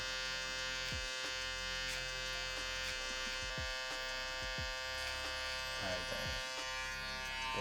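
An electric shaver buzzing steadily up close during a taper fade haircut, a constant tonal hum with brief bumps and scrapes as it moves over the head, no voices.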